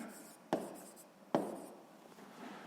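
Two quick pen or marker strokes on paper while writing out a sixth-grade math solution, each a sharp scratchy onset fading into a soft scrape, close and quiet with no talking.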